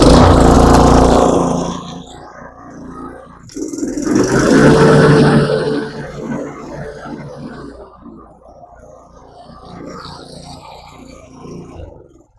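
Toro TimeMaster 30 lawn mower engine starting with a loud burst, then settling into a steady running drone that fades somewhat and continues close by.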